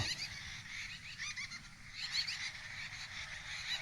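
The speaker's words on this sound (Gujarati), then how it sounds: "બાજ હિસાબે શીકલા રાડ્યું નાખે છે આ પક્ષી." Birds shriek in alarm at a hawk perched nearby, outdoors in a village field, with repeated shrill, honking calls that come in clustered bursts, moderately distant and fairly faint, with no talking.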